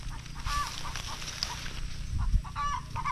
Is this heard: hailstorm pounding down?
no